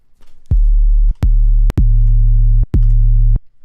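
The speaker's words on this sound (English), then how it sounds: "Watch what happens as I introduce the third harmonic with operator." An 808 bass plays as a steady sine tone, then takes on an added third harmonic for a brighter, lopsided timbre; four loud sustained notes with clicky attacks and brief gaps, alone without talk.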